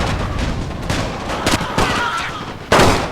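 Dense battlefield artillery and rifle gunfire from Napoleon Total War in an alternate Great War scenario: a continuous loud crackle of shots with heavier booms breaking through.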